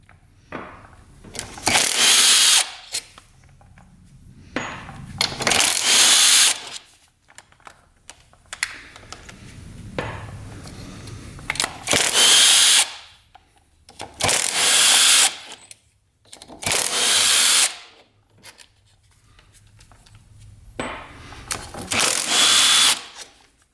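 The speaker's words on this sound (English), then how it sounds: "go to the other side and take out all the screws here" A cordless tool spins screws out of a dirt bike engine case, one loud whirring burst after another with quiet pauses and faint handling noises between, all close up.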